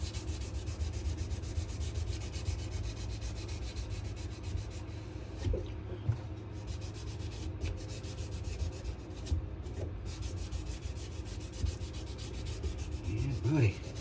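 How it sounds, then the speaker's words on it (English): Steady, close rubbing rasp of sandpaper worked over a knife handle, continuous for the whole stretch with slight variations in stroke intensity and no talking. "All right, almost done with the sanding on this."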